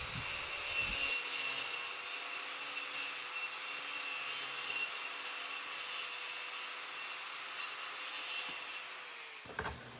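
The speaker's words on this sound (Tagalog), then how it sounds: "Mas mabilis mag-cut pag ginamit yung angle grinder." An angle grinder cuts through a fluted panel during a small kitchen cabinet renovation, giving a loud, steady, rasping whine that runs almost unbroken for about nine seconds before cutting off abruptly, with no talking.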